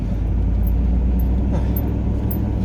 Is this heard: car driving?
yes